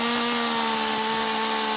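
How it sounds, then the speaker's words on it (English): A chainsaw carves a tree trunk into a cello-shaped sculpture in Mt. Lebanon, its engine holding a steady, loud, continuous whine with no pauses. "The Stahls worked with a chainsaw artist from Kentucky who happened to be in the area to bring their vision to life."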